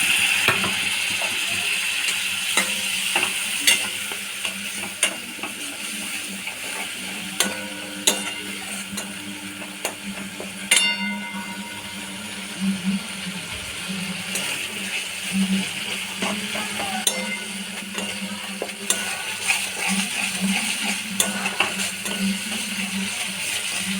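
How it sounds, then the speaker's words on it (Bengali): Masala spice paste with ginger paste and ground spices being stir-fried with a little water for a chana paneer curry, giving a steady sizzle with repeated scraping and clicking of the spoon against the pan, close and continuous throughout. "অল্প জল দিয়ে মশলাটাকে কষে নেব।"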